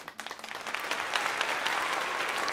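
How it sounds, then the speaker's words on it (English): A small group applauds during a live LEGO Star Wars building stream, claps starting sparse and quickly building into steady, moderately close clapping for a couple of seconds. "Big claps to me"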